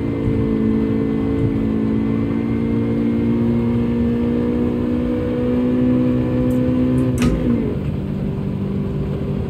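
A front-engine, front-wheel drive car in Gran Turismo, driven with an H-pattern clutch and no traction control, holds a loud steady engine drone with a sharp gear-change blip near the end.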